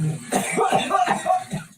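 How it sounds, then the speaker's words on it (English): A teenager on a ventilator coughs repeatedly in a rapid fit, several harsh, throaty bursts close together, then trails off. "The body of a teen spasming in a coughing fit on a ventilator just to breathe."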